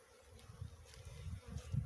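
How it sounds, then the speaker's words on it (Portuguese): Honeybees of the Apis genus hum in a low, steady drone during a colony rescue, faint and close with soft rustling underneath and no speech. "Uma abelhinha muito mansa."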